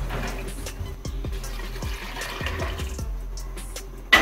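Two glasses of water are poured into a cooking pot of chicken for shami kabab, a steady splashing pour with a few clinks, close and moderately loud with no talking.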